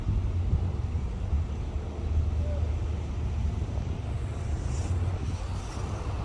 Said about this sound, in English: the wind is really doing a number on it